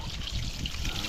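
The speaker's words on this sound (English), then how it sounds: "let's put a little bit of water in here" Water trickles steadily into the coolant return pipe of a Polaris Sportsman 850 ATV, a brief close pour with a faint voice underneath.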